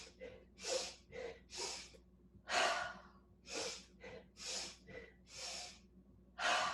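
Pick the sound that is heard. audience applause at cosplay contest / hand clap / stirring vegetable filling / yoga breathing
yoga breathing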